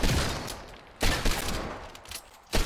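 Desert Eagle pistol shots in the game Fortnite, sharp loud reports spaced unevenly, including a burst at one second and another near the end, with softer gunfire and game noise between.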